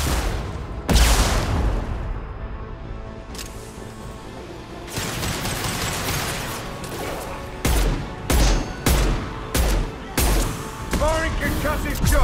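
Mass Effect 2 combat: a heavy boom opens the fight, then rapid bursts of gunfire and sharp concussive impacts come in clusters, loud and close, as squad voices speak over the shooting.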